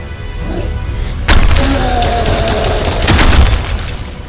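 Pistol gunfire in the survival video game Mist Survival: a sudden sharp blast followed by a dense burst of booming, crackling shots that swells again near the end before fading, loud and close with no talk.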